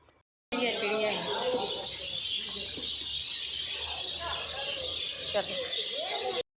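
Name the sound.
many birds chirping in a garden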